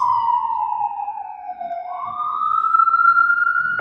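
An ambulance siren wails steadily, its pitch sliding down and then rising again as it passes, loud and continuous with no talking.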